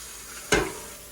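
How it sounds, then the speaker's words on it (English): Butter hitting a hot pan for a creamy porcini mushroom pasta sauce, heard as one sudden close burst of sizzle that fades over a low, even background hiss. "I'll do some butter in the pan."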